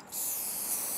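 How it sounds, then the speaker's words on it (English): Waterproofing spray hisses from an aerosol can onto suede and canvas boots, a steady close, loud spray starting after a brief pause and continuing without a break. "just spray over it anywhere where you want to"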